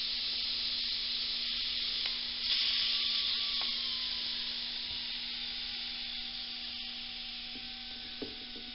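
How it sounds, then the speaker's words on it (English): Steam hisses steadily at moderate volume while a Gretsch hollow-body guitar's neck heel joint is heated for a neck reset, with a few faint clicks and light handling noises underneath. "This is some good steam."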